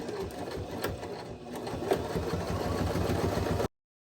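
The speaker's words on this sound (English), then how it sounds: "I'll be stitching through all layers of the hat." A Baby Lock Zest sewing machine hums steadily and close up as it topstitches through all layers of a bucket hat. The run continues without pause, then cuts off sharply near the end.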